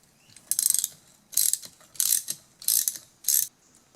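Ratchet wrench loosening a tight hex bolt on a hydraulic floor jack during a rebuild, heard as five close, loud bursts of rapid clicking separated by short pauses, with no talking.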